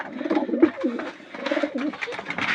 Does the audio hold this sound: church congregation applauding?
no